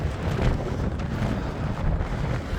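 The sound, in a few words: headwind blowing while cycling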